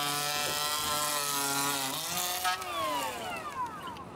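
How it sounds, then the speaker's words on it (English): A cordless power planer runs steadily, planing the tops of roof truss boards at a home addition build; a loud, sustained whine that shifts pitch partway through as the blade bites the wood, close by with no talking. "we're going to take a planer and plane the top of those boards"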